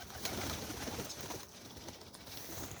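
Pigeons coo softly in a breeding aviary during winter, faint low murmuring calls repeating against a hushed, slightly noisy background, with no voices present.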